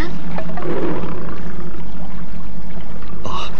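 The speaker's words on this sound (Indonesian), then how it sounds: "Suara harimau itu, Ki." A tiger's deep roar from a Indonesian radio drama, loud and rumbling for a few seconds, with a brief sharper cry near the end.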